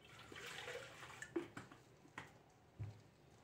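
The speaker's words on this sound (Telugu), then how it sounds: "నీళ్లు పోసుకుంటాం అన్నమాట." Water poured into half a litre of yogurt to thin a marinade for chillies, a quiet trickling and splashing with a few soft knocks, close by and without talk.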